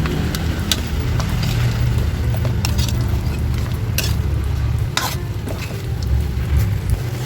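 Pork spare ribs caldereta cooks in a pan, with a steady close sizzle under repeated scraping and clinking of a utensil against the pan as the ingredients are stirred.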